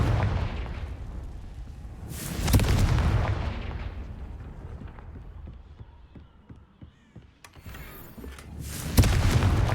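In Hogwarts Legacy, Confringo fire spells land as loud, booming blasts, two big bursts with a sharp crack between them and a run of lighter popping hits.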